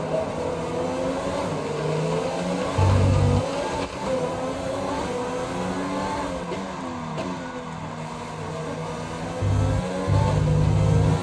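F1 race car in the F1 2020 video game at the Dutch Grand Prix, passing a McLaren through a turn: a steady, loud engine drone with shifting pitch, gear changes and brief louder surges, alone without talk.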